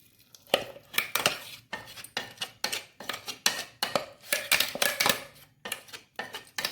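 Dosa batter made from rice and grated coconut is shifted into a dry vessel with a utensil, giving a steady run of sharp metallic clinks and scrapes, close and fairly loud, with no talk.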